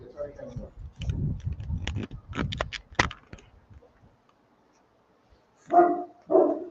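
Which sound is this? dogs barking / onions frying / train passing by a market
dogs barking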